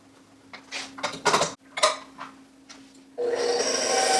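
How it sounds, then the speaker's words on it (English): A mixture with honey is beaten in a bowl, making repeated scraping, rubbing strokes with clinks against the sides. It ends in a louder, steady whirring rasp close up, with no voices. "We're going to beat these together for about 5 minutes until it's creamy."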